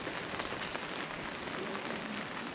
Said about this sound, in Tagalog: Matindi na naman ang ulan.